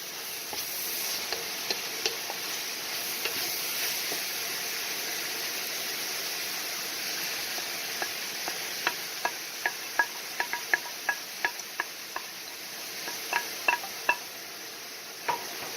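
Green onion goes into pork filling in a pan, giving a soft steady sizzle with a run of light, sharp spoon or spatula clicks against the pan in the second half. No one speaks.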